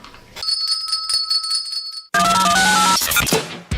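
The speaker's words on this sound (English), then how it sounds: "Now where's my bell?" A hand bell rings with bright, sustained metallic tones and repeated strikes, joined partway through by a louder burst of music for a morning show at a cafe.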